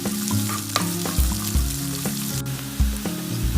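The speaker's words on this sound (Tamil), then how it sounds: "இப்போ வெங்காயம் போட்டுருங்க. போட்டு நல்லா ஒரு ப்ரௌன் கலர் வர மாதிரி வதக்கி விடுங்க." Onions with crushed ginger and garlic sauté in a pan for an aloo fry, a close, steady sizzle punctuated by repeated scraping stirs of a spoon, with no voices.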